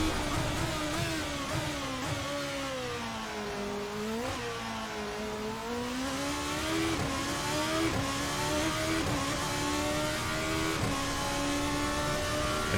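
A GP2 race car in Assetto Corsa accelerates out of Parabolica, its loud engine dipping then climbing steadily in pitch through successive gear changes, sustained and close with no voices.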